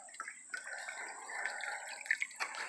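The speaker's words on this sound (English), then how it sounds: "I've got water flowing out the overflow and a good supply into this bucket" Water runs out of an overflow into a bucket, a steady close trickle and splash with occasional drips, continuous and fairly quiet with no talking.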